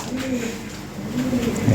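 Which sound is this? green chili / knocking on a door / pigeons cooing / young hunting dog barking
pigeons cooing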